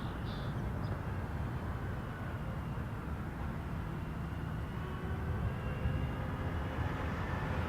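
A heavy airliner approaching Toronto Pearson Airport, producing a steady, low, rumbling engine drone that stays fairly constant and moderately distant throughout.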